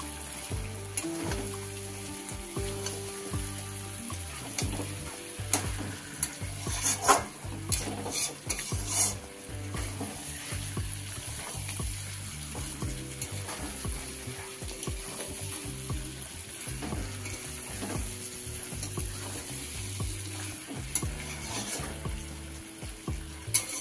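Mutton and fried potatoes stir-fried in a pan for a red spicy goat curry, with a constant sizzle and repeated scraping and clanking of a spatula against the metal pan throughout.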